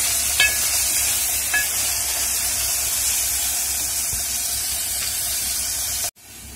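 Sliced onions fry in a pan until browning, giving a steady, close sizzle with a few faint stirring clicks before the sound cuts off abruptly near the end.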